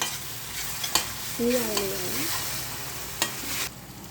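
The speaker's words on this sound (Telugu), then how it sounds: "అది అలా తీసుకుని 2 వేసి దాన్ని బాగా కలుపుకోవాలన్నమాట." A spoon stirring crab curry with ginger-garlic paste and masala in a pan, giving scraping clatters and soft sizzling, with a few sharp knocks against the pan.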